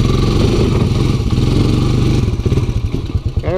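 Honda Fourtrax 300 ATV engine running loud and close while mudding, a rough throbbing rumble that turns choppy near the end with uneven popping and crackling pulses.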